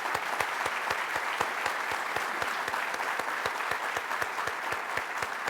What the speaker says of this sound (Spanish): Un fuerte aplauso para Diana Verónica Ramos